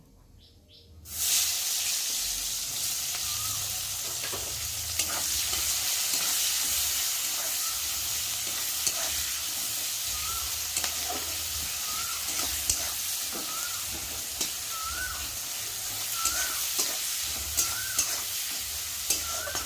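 Chopped onions fry in hot oil in a pan after bay leaves, a steady bright sizzle starting abruptly and continuing evenly, with occasional light stirring clicks.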